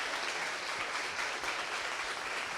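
An audience at a conference on LGBTQ+ and Black diversity in information technology applauds, a steady, fairly faint wash of clapping from a distance.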